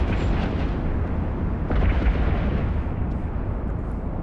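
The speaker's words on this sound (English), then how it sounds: "so they're shooting at me now" Ships fire weapons in the space game EVE Online, producing a continuous rumbling barrage of booms and blasts with a heavier burst midway, loud and dense with no voices.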